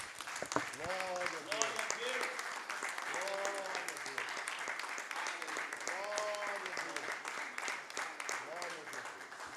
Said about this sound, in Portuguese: Aplauda forte o Senhor.